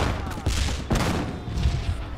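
Gunfire and explosions from the Korean War video game Theatre of War 3: Korea crack and thud in a dense, loud burst of overlapping shots and booms.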